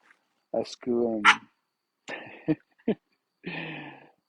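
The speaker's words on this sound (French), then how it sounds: "le chien, Tinouk." A dog barks and yelps in several short bursts at close range, separated by brief pauses in an otherwise quiet room.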